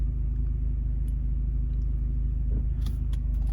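An NA Mazda Miata engine idles and rumbles steadily at close range while the car is parked, with a constant low drone and a few faint clicks and knocks near the end.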